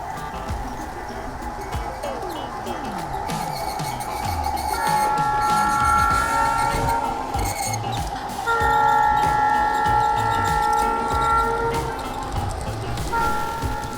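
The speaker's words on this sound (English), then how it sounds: "So this train is a lot bigger than most model trains." An unusually large model train runs along its track with a steady mechanical rumble and clatter, punctuated by sustained horn or whistle toots that come in two long blasts, with no talking.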